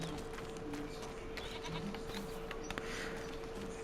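Goats bleat repeatedly in the farming video game Farming Simulator 25, several overlapping calls over a steady ambient background with no talking.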